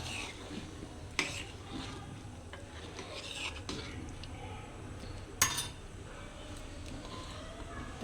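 Lentil curry of red masoor dal being stirred in a cooking pot, with a soft continuous scraping and a couple of sharp metallic clinks of the spoon against the pot, close and moderately quiet.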